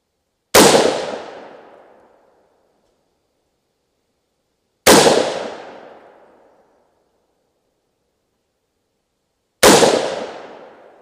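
Three loud 300 Blackout rifle shots fired at a target on a range, each a sharp crack with a decaying tail, spaced about four to five seconds apart, with no talking.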